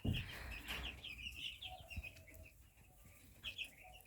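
Chicks and young turkey poults cheep and cluck softly together, with high, quick repeated peeps over low murmuring calls, faint and close throughout, plus a little rustling.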